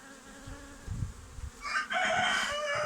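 Honey bees buzz close by at a hive during honey harvest, a busy droning hum that swells and gets louder partway through, with a faint clatter underneath.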